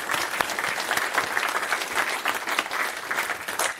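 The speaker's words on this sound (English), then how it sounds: "give them a round of applause for putting this all together" A talk audience at an open source radio telescope presentation gives a full round of applause, a dense, fairly loud and continuous clapping of many hands with no voices on top.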